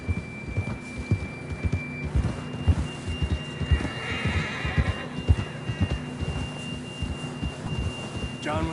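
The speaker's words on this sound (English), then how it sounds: "John was riding that horse when we left Blackwater." Horse in the video game Red Dead Redemption 2, neighing amid steady hoof clip-clop and game ambience, fairly loud and close, with a faint tonal hum running through.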